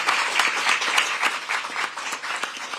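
An audience at a public safety event in Syracuse gives the mayor a round of applause, a dense, steady burst of many hands clapping at moderate distance.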